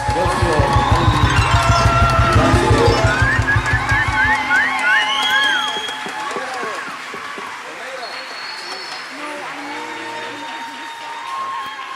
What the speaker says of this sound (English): Give our 3 seniors a huge round of applause